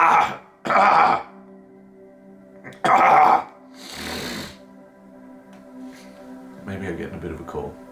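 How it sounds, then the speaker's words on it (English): A man clears his throat in several rough, throaty bursts, close and loud, with quieter breathy sounds in between. "I'm going to clear my throat"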